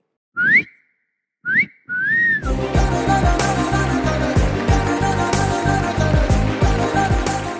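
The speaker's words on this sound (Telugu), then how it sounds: "మీరు అక్కడ విజిల్ వేయడానికి ప్రయత్నించారు, ఇక్కడ కరెక్ట్గా ఒకసారి వేయాలి" A person whistling on a singing competition stage, three short rising whistled notes with silence between them, before loud music takes over.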